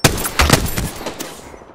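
Rapid bursts of gunfire in a battle royale video game, sharp repeated shots crackling in quick clusters at close range, tapering off toward the end with no talk over them.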